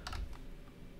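A few quick clicking keystrokes on a computer keyboard, faint and close, clustered at the start of a brief moment with no talking.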